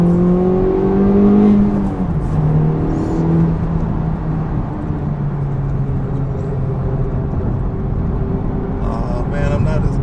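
A Honda Civic Type R FL5 drives and accelerates, its engine note rising and shifting through gears in a steady in-cabin drone, with voices talking over it.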